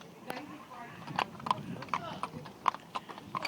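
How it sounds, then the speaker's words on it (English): A horse walks with a steady clip-clop of hooves, each strike crisp and close, while people talk nearby. "It's a beautiful horse."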